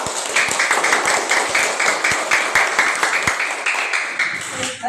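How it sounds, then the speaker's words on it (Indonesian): A classroom of students claps for a group of classmates, brisk and close with sharp, uneven individual claps forming a lively rhythmic patter that tapers off at the end. "Tepuk tangan."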